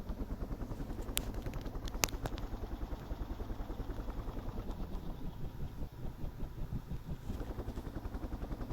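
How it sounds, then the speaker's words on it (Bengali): A video-game helicopter drones with a steady rhythmic rotor chop and engine hum throughout, joined by a few sharp clicks near the start. "এখন আমি একটি হেলিকপ্টার দেখলাম"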